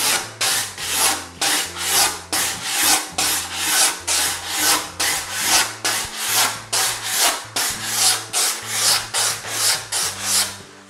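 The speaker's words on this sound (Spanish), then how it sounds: "trataremos de lijarlo" A large-format tile edge bevel is sanded by hand with steady back-and-forth abrasive strokes. The scraping rubs are loud and close, repeating rhythmically about twice per second with no talking.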